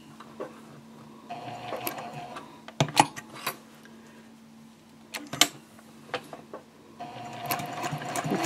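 A sewing machine stitching a small fabric key fob card pouch along its edge, running in short bursts with a whirring hum and rapid needle clatter, broken by a few sharper clicks and brief pauses, heard up close without talk.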